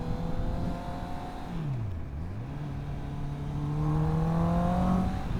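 A motorcycle engine revs while riding, its note dropping into a brief dip as it shifts, then climbing steadily again over constant wind rush, loud and close.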